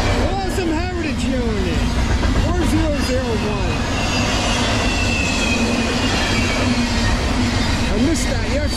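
Norfolk Southern freight train 261, led by a blue heritage locomotive, roars past at full throttle with a steady loud diesel drone and rumbling wagons throughout, while people talk excitedly over it.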